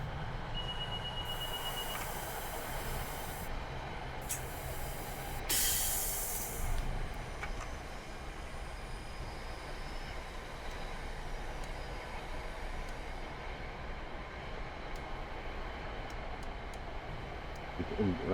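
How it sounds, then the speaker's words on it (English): NJ Transit Arrow III electric multiple unit train running on the Morristown line in Train Sim World 6, a continuous rolling rumble with bursts of hiss and brief high whines, steady and fairly quiet throughout. "So new to Trains of the World is the classic Arrow 3 EMU, one of the staples of the Morristown line."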